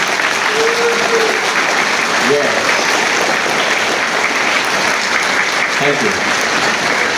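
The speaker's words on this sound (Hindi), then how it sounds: "Clap for yourself." A school audience at a Delhi Public School Children's Day event claps in a steady, sustained burst that fills the room, with a voice speaking over the applause.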